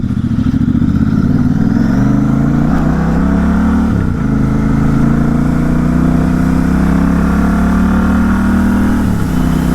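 A motorcycle engine runs steadily and loudly on the road, its pitch climbing and then dropping sharply twice as the rider shifts gear, with no talking.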